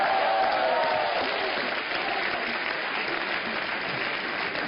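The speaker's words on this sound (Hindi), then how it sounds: "इस बहू के लिए जोरदार तालियां" Loud, dense studio audience applause on a television talk show, steady and sustained throughout without a break, with no talk over it.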